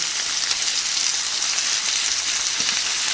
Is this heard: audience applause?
no